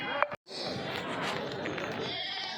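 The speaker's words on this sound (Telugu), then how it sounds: "చూడండి, మేకలు పెద్ద సైజు మేకలు అన్నీ." Goats at a busy rural weekly livestock market, one short bleat near the start followed by a dense crowd murmur of voices and animal noise that continues to the end.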